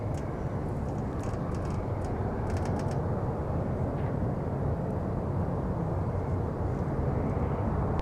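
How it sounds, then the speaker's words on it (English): A Delta 162 Heavy jet pushing back at Minneapolis–St. Paul airport gives a broad, steady low rumble and roar that stays constant from a distance, with faint higher whine on top. "So we are currently looking at Delta 162 Heavy pushing back for Amsterdam."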